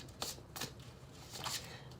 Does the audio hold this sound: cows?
no